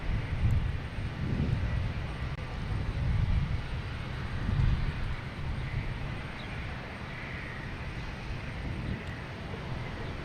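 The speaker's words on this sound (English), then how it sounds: "next takeoff is a JetBlue. We'll be heading to Aruba, an A321." A JetBlue Airbus A321 taking off at Boston Logan Airport, a steady broad low roar of jet engine noise that holds for the whole stretch, with some wind buffeting on the microphone.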